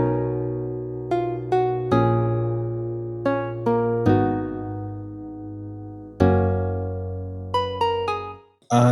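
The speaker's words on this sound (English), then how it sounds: "It is the string acoustic guitar from Muffin" Acoustic string guitar patch from Muffin in a production, plucked notes and ringing chords over a low sustained bass, clear and moderately loud with each attack fading, no talk.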